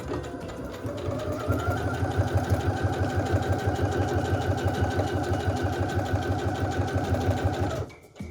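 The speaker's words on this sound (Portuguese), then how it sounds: "E costuro de uma extremidade à outra." A sewing machine runs at steady speed, stitching fabric for a carnival money belt from one end to the other, its fast rhythmic whirring close and loud for about seven seconds before stopping abruptly.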